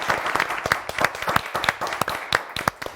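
A studio audience at a Turkish TV word-game show applauds as a contestant leaves the stage, with loud, close, brisk clapping and sharp individual claps standing out from the continuous wash.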